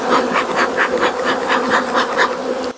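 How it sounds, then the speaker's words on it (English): Honey bees shaken out of a hive frame into nucleus boxes for a walkaway split make a loud, close, dense buzzing that swells in soft pulses, then cuts off abruptly at the end. "Just going to shake these bees out, and hopefully that most of these bees will go into these nukes"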